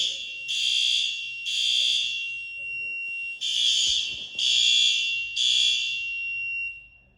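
A high school fire alarm sounds in repeated loud, piercing tonal blasts, about six pulses in an uneven rhythm, with the horns not synchronized, indoors with no talking.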